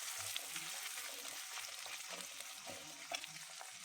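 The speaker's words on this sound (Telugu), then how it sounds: "ఇది మంచిగా ఫ్రై కావాలి." Ginger-garlic paste and green chili paste fry steadily in hot oil, a soft continuous sizzle with faint crackles throughout, fairly quiet, with no voices.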